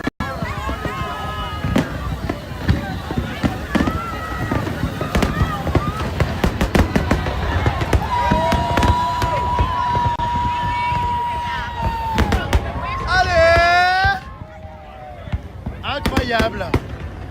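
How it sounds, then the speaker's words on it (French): New Year fireworks bursting over the sea off Brazil: a rapid series of sharp pops and crackles, near and loud, with people talking and exclaiming throughout and whistling tones rising between bursts. "Mais ils sont tirés d'où ces feux d'artifice en plein milieu de la mer?"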